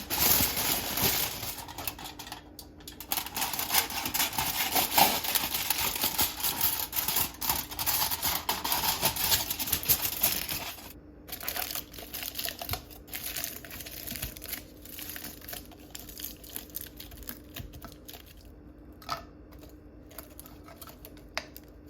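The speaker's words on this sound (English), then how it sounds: "I'm gonna actually wrap these in aluminum foil" Aluminum foil wrapped around glass Kratky jars for pepper plants: close, continuous crinkling and crumpling, then quieter intermittent rustles with short pauses.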